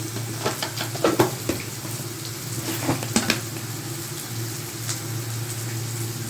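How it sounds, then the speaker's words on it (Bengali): Bitter gourd fries in oil with turmeric added for a mustard-paste curry. Close, steady sizzling comes with bursts of stirring and a few clattering spatula knocks against the pan, and no speech. "আমার করলাটা ভাজা হয়ে গেছে, আমি এখন হলুদটা অ্যাড করে দিচ্ছি"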